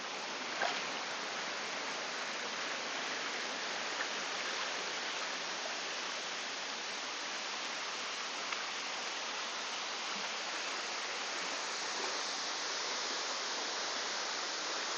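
Erawan waterfall's third tier pours in a steady, even roar of falling water, close and continuous throughout with no voices.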